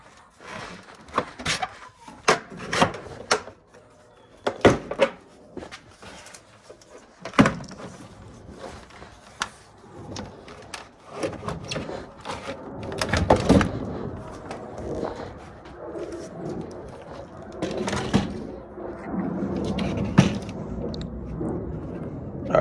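A door panel being pried off a 1995 Honda Civic, giving a series of sharp plastic clip pops, cracks and scraping knocks at irregular intervals, close and fairly loud, with rustling handling in between.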